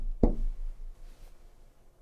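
A single dull knock lands early, close and fairly sharp, followed by quiet room hiss with no further taps or voices, heard during a paranormal investigation in a haunted location.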